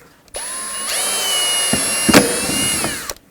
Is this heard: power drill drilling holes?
yes